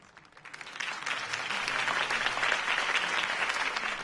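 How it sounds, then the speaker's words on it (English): Crowd applause in the Batman Telltale video game, a sustained wash of clapping that swells after a brief quiet start and holds steady and fairly loud throughout, with no talk over it. "If only Mr. Wayne, my campaign's largest backer, could have heard that applause"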